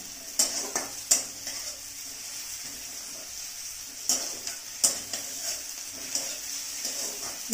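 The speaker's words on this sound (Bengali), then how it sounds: "আমি শুকনো লঙ্কাটা তখন দিইনি, এখন দিচ্ছি" Dried red chillies stirred into softening onions in a pan for a Bengali mushroom curry: a low sizzle under sharp intermittent scrapes and clinks of a spoon against the pan, close and without speech.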